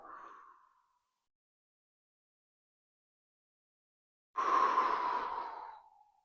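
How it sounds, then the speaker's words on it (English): Two slow, deep breaths taken during an upper-body and neck stretch, close to the microphone: a soft exhale trailing off at the start, then a long, full breath after a silent pause. "we're going to take a couple deep breaths here."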